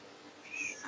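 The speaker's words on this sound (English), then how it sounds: "I have my other cat meowing at me." A house cat gives one short, fairly faint meow close by, a brief rising cry over a quiet room.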